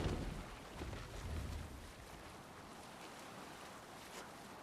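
Broadband wash of wind and waves rushes around a Viking longship under sail in Assassin's Creed Valhalla, a steady moderate roar with a slightly heavier swell in the first two seconds.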